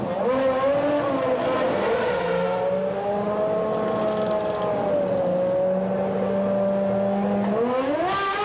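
Formula 1 race cars from the 1994 season pull into the pits: a steady, high-pitched engine whine drifts and sags as the cars slow, then climbs sharply again at the end, with a lower droning note underneath.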